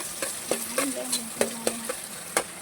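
Onions hitting hot oil for boti curry, with a steady sizzle and several sharp stir-and-scrape strikes in an uneven rhythm, close and fairly quiet.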